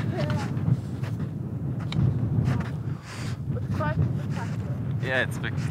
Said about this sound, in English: Windy and ice cold.